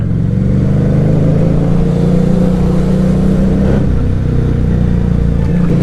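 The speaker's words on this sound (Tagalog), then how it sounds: "macho-macho ng motor mo pakinggan" A loud, steady FKM Victorino 250i V-twin motorcycle engine rumbles up close, a deep, continuous throbbing with no speech.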